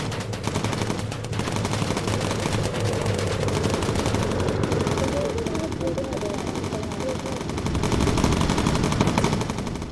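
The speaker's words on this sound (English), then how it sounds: "We can't take AA fire like that." Sustained anti-aircraft flak and gunfire in the Bomber Crew video game, a dense continuous barrage of rattling shots and blasts that stays loud throughout, with a voice talking underneath.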